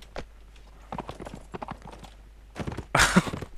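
Horse hooves from the video game Mount & Blade: Warband clatter in scattered bursts of clip-clop, building to a louder, closer flurry near the end, with no one speaking.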